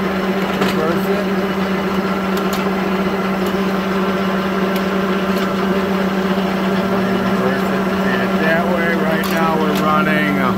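A Leblond Regal 24-inch lathe runs in reverse at 180 RPM, giving a steady, loud mechanical hum and whine with a constant drone and no break throughout.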